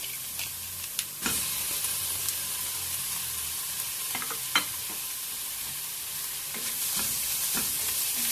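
Shrimp sautéing in a pan with carrot, onion and garlic: a steady close sizzle with scattered stirring clacks and scrapes, no voices.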